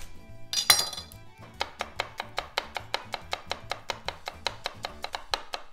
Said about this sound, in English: So while I chop my garlic